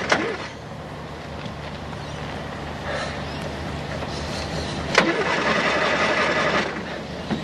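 A car engine cranks repeatedly without catching, likely flooded from too much choke, a steady mechanical churning with occasional louder bursts, close and continuous.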